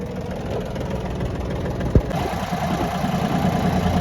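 A Japanese mini tractor's engine runs steadily while the machine drives between plots, a continuous mid-to-low drone with one brief knock partway through and no talking.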